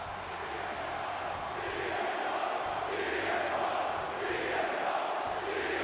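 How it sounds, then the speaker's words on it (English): Arena crowd in WWE 2K25 roaring for CM Punk at a Boston show, a steady, loud wash of cheering and shouting that swells slightly and holds throughout. "Listen to the crowd for CM Punk here in Boston."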